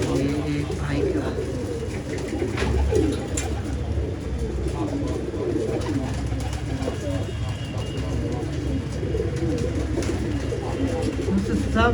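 Pigeons coo softly and repeatedly in a busy loft in Jamshedpur, Jharkhand, with a steady low background murmur and faint chirps throughout.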